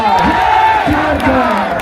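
A political rally crowd in Jharkhand roars and chants together, a loud, sustained mass of voices with rising shouts, close and continuous throughout.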